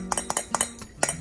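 A spoon clinking against a pot of melting caramel as cornstarch goes in, a few quick metallic taps and scrapes close by.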